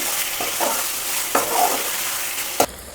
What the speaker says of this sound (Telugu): అల్లం పేస్ట్ వేసిన తర్వాత అల్లం పచ్చి వాసన వరకు అటు ఇటు కలుపుకోవాలి